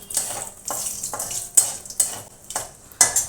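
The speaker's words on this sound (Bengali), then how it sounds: "মশলাটা একটু ভাজা ভাজা করে নেব।" Dried red chillies and panch phoron fry in hot oil in a pan while a spoon stirs them. Sharp scraping strokes land about every half second over a low sizzle, close and fairly loud, with no talking.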